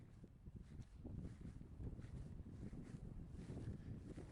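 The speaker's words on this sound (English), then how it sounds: "Very windy today." Strong wind buffets the microphone in a steady low roar with gusts, recorded outdoors in spring at a lakeside park.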